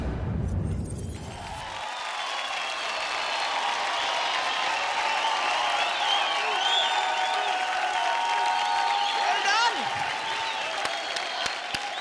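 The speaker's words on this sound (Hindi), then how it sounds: "जबरदस्त परफॉर्मेंस, जोरदार तालियां प्रदीप के लिए।" Applause and cheering from a television dance-show audience after dancer Pradeep's performance, a sustained wash of clapping that swells after the music ends and holds steady, with a host's voice over it.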